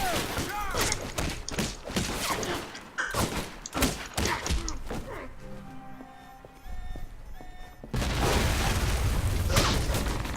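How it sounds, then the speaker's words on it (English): Explosions and heavy combat erupt in the espionage video game Alpha Protocol: loud, dense broadband blasts and thuds pile up in rapid clusters, ease briefly, then return in a sustained roar near the end. "Explosion in your area."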